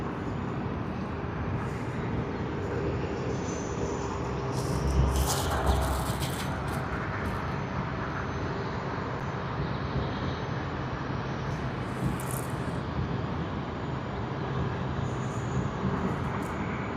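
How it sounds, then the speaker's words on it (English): At Sydney Airport, an airliner bound for Hong Kong begins its takeoff roll, a steady broad engine roar heard from a distance that holds even and continuous, with a slight swell partway through. "the takeoff roll has begun"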